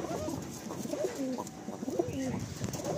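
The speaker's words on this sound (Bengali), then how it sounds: "এই যে নরটা যে ডাকছে" A male Madrasi pigeon coos repeatedly up close, soft throaty rolling calls over a low background hum.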